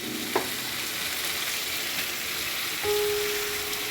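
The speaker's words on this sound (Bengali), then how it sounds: "এবার আমি মূলোটা যে গ্রেটার করে ঘষে রেখেছিলাম সেটা দেব।" Grated radish sizzles steadily in hot spiced oil for a mulo ghonto with bori, a soft continuous fry with a single tap near the start and a brief tonal hum toward the end.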